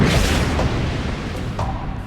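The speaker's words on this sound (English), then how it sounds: "We're going to light off the charges inside, blow the can up into the air" Chemical charges detonate inside a metal can rigged as a spacecraft simulator, blowing it into the air: a loud, sustained low boom and rumble fills the whole stretch without letup.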